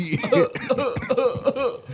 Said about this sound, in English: It's coughing.